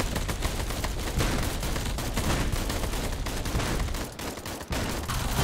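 A minigun fires continuously in a Roblox zombie survival game, a loud, dense, unbroken roar of rapid shots that barely pauses, close and harsh throughout.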